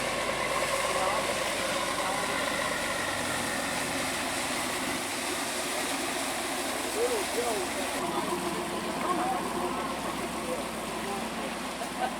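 Low, steady drone of a fishing boat engine running at close range as it comes in to a wharf in Nova Scotia, with faint voices and wind noise around it.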